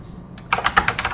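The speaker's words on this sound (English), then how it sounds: "Now, in terms of the sound," Keys clack on a Redragon K558 mechanical gaming keyboard in a short, close burst of about six quick, crisp keystrokes with no voice over them.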